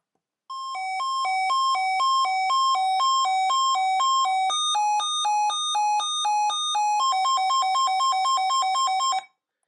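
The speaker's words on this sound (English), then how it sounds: "Let's do a quick siren test" A weather radio's siren test plays a loud electronic alert that steps rapidly back and forth between two tones for about nine seconds, shifting pitch partway through, with no voices.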